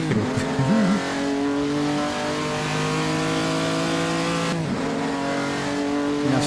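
A 1949 postwar Grand Prix race car in Assetto Corsa on the Noris-Ring circuit, its engine droning steadily at high revs, with a brief dip and gear change midway before climbing again, loud and continuous.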